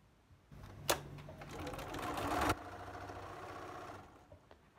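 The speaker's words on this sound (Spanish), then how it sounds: "voy a coser en cadena a ambos lados de la diagonal" A sewing machine runs in a steady mechanical whir while chain-stitching a quilt block on both sides of the diagonals, close and fairly quiet, with a sharp click before it starts and a softer hum after.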